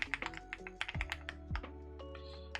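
Keys on a custom-built Keycult mechanical keyboard clack in quick, uneven bursts of typing, close up and fairly quiet, with no voices.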